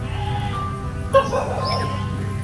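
Dog and goat making noise on a rural Filipino farm: a sharp bark or yelp near the middle, short high whimpering cries after it, over a low steady background hum.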